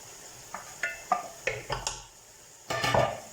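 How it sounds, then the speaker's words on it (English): Beef mince and potato curry stirred in a pot, a spoon scraping and clinking against the metal in a series of short, distinct strokes, ending in a longer scraping stir, close and fairly quiet with a faint sizzle underneath. "Stir it a few more times"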